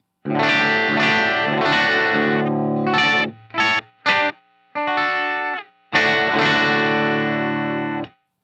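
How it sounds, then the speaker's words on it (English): Distorted Telecaster electric guitar through a Hiwatt amp emulation, playing chords and short choppy bursts with gaps, then sustained ringing chords, loud and alone with an amp-like crunch. "here's the sound of the Tele played through the high watt"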